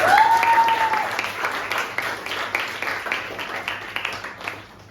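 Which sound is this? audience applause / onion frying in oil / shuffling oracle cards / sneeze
audience applause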